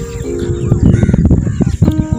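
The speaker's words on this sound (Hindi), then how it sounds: "कौवे" Crows cawing in a village after rain, several harsh calls in quick succession, fairly loud and near, mixed with other bird sounds and no speech.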